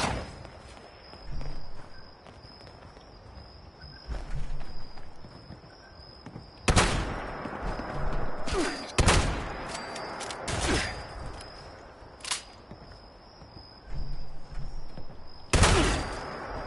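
Gunfire in the video game Fallout 76: several sharp broadband shots ring out alone at irregular intervals over a steady high-pitched game ambience, with footsteps in between.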